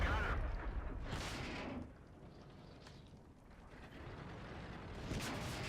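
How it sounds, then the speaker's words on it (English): Heavy booming tank gunfire from a tank destroyer in the World of Tanks video game, a couple of deep blasts with rumbling engine noise between them, fairly loud and close. "there's the fire from the rear via tank destroyer"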